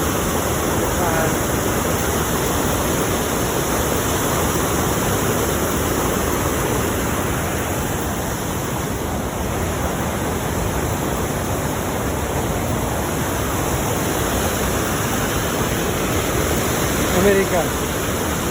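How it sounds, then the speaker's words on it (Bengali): Water pours down a mountain waterfall between two hills in America, making a steady, loud, unbroken rush that lasts throughout with no talking. "আমেরিকা, পাহাড়ের ঝর্ণার পানি, দুই পাহাড়ে কি সুন্দর কিভাবে পানি পড়ছে।"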